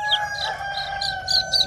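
A nine-spur chicken rooster (gà chín cựa) crows in a short series of sharp, high calls, close and clear with a faint background hum.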